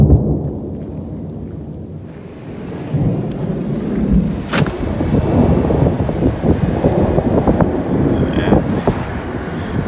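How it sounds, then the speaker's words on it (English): Deep rolling thunder builds and lingers through the clip at Glacier National Park, with wind buffeting the microphone and rain-like noise over it. "I'm not gonna spend too much time here because it's thundering."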